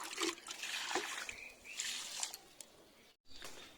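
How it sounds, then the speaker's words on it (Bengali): Water pours into a bucket being filled for pigeons, a steady splashing trickle that is close and fairly faint, with a brief cutoff near the end before it resumes. "বালতিটা ভরে জল রেখে দিয়ে এলাম"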